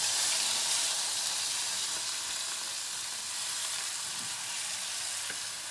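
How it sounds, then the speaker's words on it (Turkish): Bulgur sizzles and fries steadily in a hot pan, a continuous bright hiss at even loudness with faint stirring movements and no talk. "Şimdi bulgurlarımı atıyorum"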